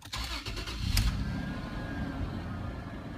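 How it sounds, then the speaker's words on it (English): A pickup truck engine cranks and catches, then settles into a steady, loud idle rumble up close. "So what happens if I turn on the truck?"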